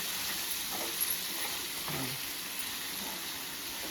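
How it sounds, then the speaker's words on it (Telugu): Chicken liver seasoned with pepper powder fries gently on low heat, giving a soft, steady sizzle and hiss that runs unbroken throughout, fairly quiet and close, with no voices. "ఇప్పుడు వీటిని సిమ్లో పెట్టుకొని వేయించుకోవాలి."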